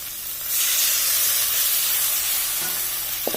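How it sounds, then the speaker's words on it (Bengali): Loud steaming hiss as water hits a hot pan of cooking okra (bhindi bhapa), a sudden sizzle that swells and then holds as a steady spray-like roar, with a faint clink near the end. "আমি এখন জল দিয়ে দিচ্ছি।"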